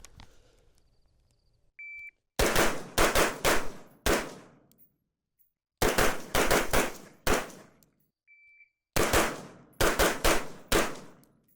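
Rifle fires bursts of loud, close shots in three groups, each a rapid string of sharp reports with short gaps, taken at targets in turn; faint beeps sound between the groups.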